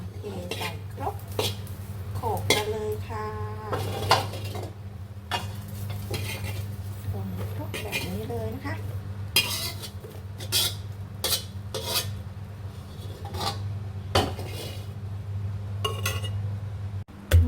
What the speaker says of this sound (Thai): พริกเราก็สุกแล้วค่ะ เราจะมาโขลกกันเลยค่ะ